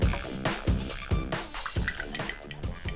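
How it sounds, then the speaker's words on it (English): Thick blended sodium alginate slime mixture poured from a blender into a bowl: close wet glugging and dripping with soft splats, uneven and gloopy over a few seconds. "Now I'm just gonna pour that"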